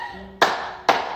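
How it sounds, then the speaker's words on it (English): Two sharp, loud hand claps ring out close by, about half a second apart, each with a short ringing tail in a room, following a faint low tone. "The loud clap."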